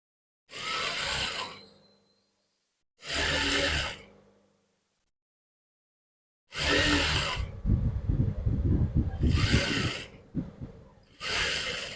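A sewing machine stitching shirt fabric runs in short bursts of steady mechanical whirring, two brief runs and then a longer stretch with a couple more bursts, close and fairly loud with no talk.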